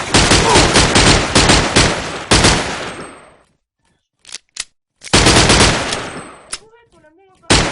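Rapid bursts of video game gunfire with a pistol crackle loud and close, two long sustained volleys split by a silent gap and a couple of single isolated shots.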